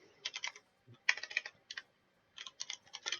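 Fingers tap out several quick bursts of keystrokes on a computer keyboard during a late-night game development session, clattering in clustered runs with short pauses between them, close and fairly quiet with no voices.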